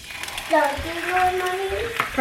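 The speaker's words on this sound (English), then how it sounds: "So I'm going to put some butter on my pan and start frying up a few eggs for breakfast." Eggs frying in butter in a pan crackle and sizzle in a soft, steady hiss, heard close, while a voice chimes in over the cooking.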